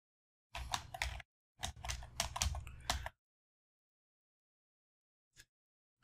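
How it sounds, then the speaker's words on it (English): Typing on a computer keyboard in two quick bursts of close, crisp key clicks separated by a short pause, then near silence broken by a single faint tap and a last click at the end. "I'm going to type Elementor."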